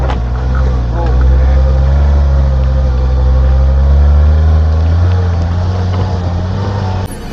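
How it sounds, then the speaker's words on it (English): A mini truck with the differential lock not working revs hard in wet, slick, deep snow as its wheels spin. The engine drones loud and steady, rising and falling slightly, close by. "Got them wheels spinning."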